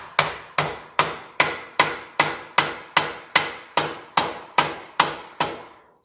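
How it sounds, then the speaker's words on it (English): A hammer taps a bushing back into place on a 1970 El Camino during restoration, about fourteen sharp, evenly spaced strikes, close and loud, with no talk. "Just tap that one right back to where it belongs."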